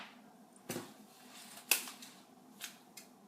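Scissors snipping material for a DIY Easter egg tree, a few sharp isolated cuts spaced a second or so apart against a quiet room.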